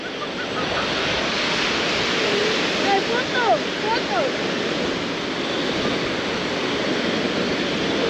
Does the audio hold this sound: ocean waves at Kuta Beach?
yes